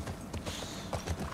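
Horse hooves clip-clopping in The Last of Us Part II, a few quiet, uneven hoofbeats at a slow walk, faint and close, with a little creaking of tack.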